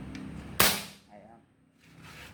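An airgun fired at a concrete wall gives one sharp, loud crack with a quick decaying tail, followed by faint low background noise.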